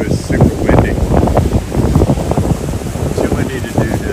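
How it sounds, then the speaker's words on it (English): Strong gusty wind buffets the microphone outdoors at a house-building site in Antique, Philippines, a loud continuous roar and rumble with muffled talk underneath. "It's super windy."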